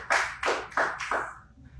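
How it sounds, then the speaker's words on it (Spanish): A church congregation claps during a Spanish-language Sunday morning service: four loud, separate bursts of hand claps that fade by the end, with no talking over them. "Démosle un fuerte aplauso al Señor en esta mañana."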